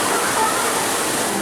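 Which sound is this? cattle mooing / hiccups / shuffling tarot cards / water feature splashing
water feature splashing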